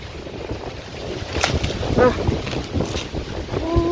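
Strong wind buffets the microphone in a continuous rushing roar that swells and eases over a few seconds, with faint voices underneath.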